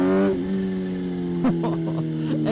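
A Kawasaki ZH2 motorcycle engine revs loudly up close, then the throttle drops off into a fluttering, chattering release over a steady idle, with a short blip of throttle partway through.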